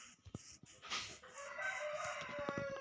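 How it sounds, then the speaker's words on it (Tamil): Chicken clucking and crowing in the Minecraft video game, short game-sound calls ringing out over a busy background of other in-game noises, moderately faint. "முதல்ல கோழியை நோடுவோம்."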